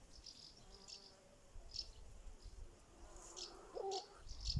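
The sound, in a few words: bees, wasps and hornets buzzing around borage flowers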